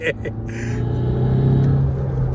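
A Tata Safari engine pulling hard in second gear from inside the cabin, a low droning rumble that swells steadily, with a brief voice at the start.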